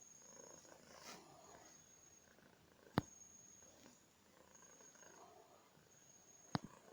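A pet cat purrs close by in a quiet room, a soft, continuous low rumble broken by two brief sharp clicks, with no speech.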